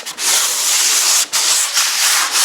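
Hand sanding of a painted wall inside an old house, loud close scratchy rubbing strokes in a steady back-and-forth rhythm with a few brief pauses between passes.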